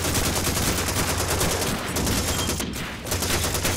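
Gunfire in Call of Duty 2, loud sustained rapid machine-gun bursts and overlapping rifle shots forming a dense, continuous barrage close by, with a brief dip near the end.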